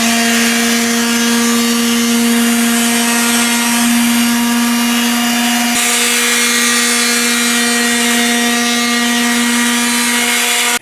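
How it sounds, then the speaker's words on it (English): An electric sander with 220-grit sandpaper runs steadily on primed wood, a continuous close whirring hum with a gritty abrasive rasp and no pauses. "we have to sand it using 220 sandpaper. That's what I have in the sander"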